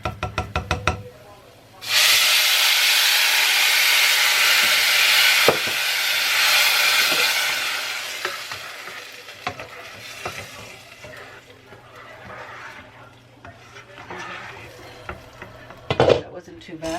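Tomato sauce hits a hot pan with a sudden loud sizzle that gradually settles into softer bubbling, followed by utensil clinks and scraping near the end.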